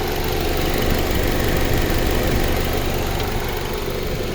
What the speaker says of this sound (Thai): เครื่องยนต์เดินเรียบๆนะครับ